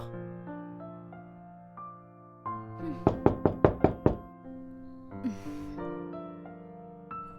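Knocking on a house door during a domestic drama: a burst of about six sharp, evenly spaced raps, loud and close, set against a steady music score, with a second fainter rap a moment later.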